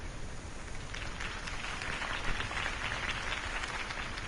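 Crowd applause after a campaign speech in the Batman Telltale video game: steady, dense clapping from a large crowd, moderately loud and continuous throughout, with a slightly distant, washed texture.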